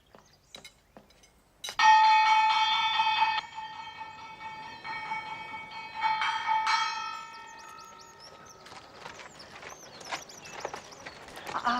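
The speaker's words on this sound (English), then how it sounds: "Did you hear the gong?" A gong struck once, its bright metallic ring blooming loudly and then decaying slowly over several seconds with a second swell, in a quiet interior with faint movement noises afterward.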